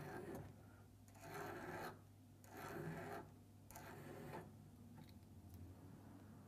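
A file rasps back and forth across the point of a fishing hook clamped in a vise, four distinct strokes with short pauses between them, close and fairly quiet.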